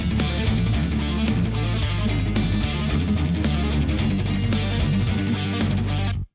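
Layered guitar parts played in octaves ring through reverb and delay under heavy compression, a dense, loud, continuous wash of notes that cuts off abruptly at the end.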